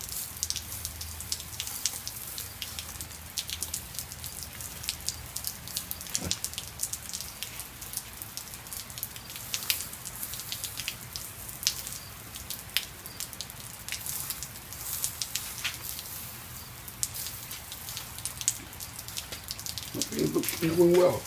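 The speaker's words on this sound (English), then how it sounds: "Still raining out here." Rain falls steadily outside a garage where chicken is being barbecued on a grill, a constant close patter with sharp individual drips scattered across it.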